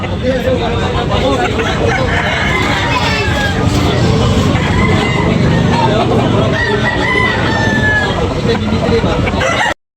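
Roosters crowing among fowl for sale at a busy market in Tabunok, Talisay, Cebu, with clucking chickens, steady crowd babble and nearby talk filling the whole stretch.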